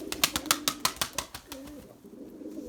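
Purebred Erzurum white breeding pigeons in a coop: a quick series of soft rhythmic pulses followed by a low throaty coo, fairly close and with no talk.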